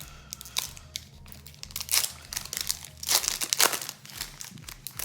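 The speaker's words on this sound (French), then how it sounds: "Donc on va s'ouvrir nos 2 boosters" Fantasy Riders trading card booster packs torn open by hand, loud close crinkling and ripping of foil wrappers in irregular bursts that build toward the end, with no talking.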